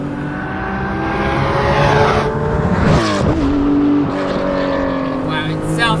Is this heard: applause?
no